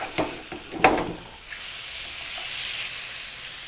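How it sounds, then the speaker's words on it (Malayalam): Fish pieces frying in oil for a Goan fish vindaloo make a close, steady sizzle and hiss, preceded by a couple of short scraping turns of a utensil, with no talking. "അപ്പോൾ മീൻ ഫ്രൈ ആയിട്ടുണ്ട്."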